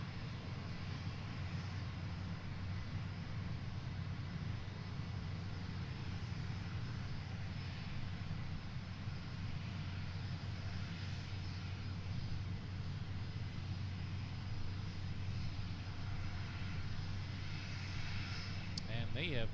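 A Global 6000 and a 605 business jet taxi at Boeing Field, a steady distant engine whine and low rumble that holds evenly throughout without talk.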